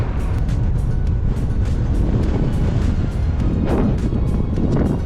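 Strong wind roars continuously against the microphone, a loud, dense rumble that never lets up.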